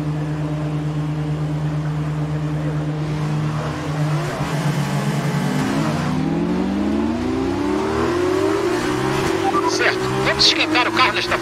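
A Formula 2 race car engine in F1 2019, idling with a steady buzzing drone and then revving up through the gears with rising, stepped pitch sweeps, loud and close under a speaking voice.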